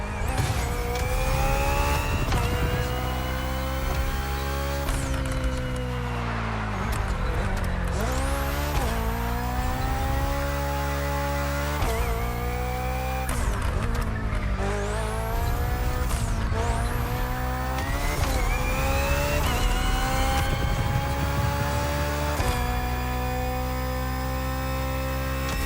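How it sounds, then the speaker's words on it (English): BMW's hybrid V8 race car in The Crew Motorfest roars continuously, its engine pitch climbing through each gear and dropping sharply at every shift, with occasional tyre squeal over a constant, loud drone. "The hybrid V8 will do the rest."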